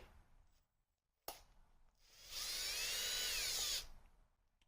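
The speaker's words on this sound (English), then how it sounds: "Usually I wouldn't use a drill here" A power drill whirs at high pitch for about a second and a half, loud and close, preceded by a sharp click and quiet background, while working on a Polaris Trailblazer.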